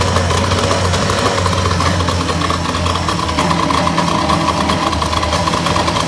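A 1962 Johnson 75 hp outboard motor held at high idle, a loud, steady, rough engine drone with a constant low throb and a faint knocking texture throughout.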